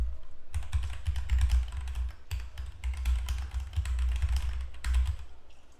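Rapid, steady typing on a computer keyboard, close and fairly loud, with dense key clatter in bursts separated by brief pauses, alone without talk.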